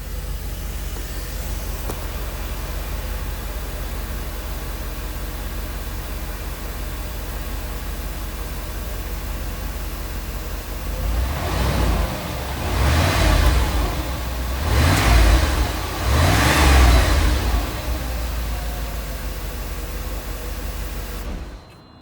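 A 1986 Mercedes 560SL engine idles steadily with a smooth hum, then revs up sharply three times in quick succession before settling back down.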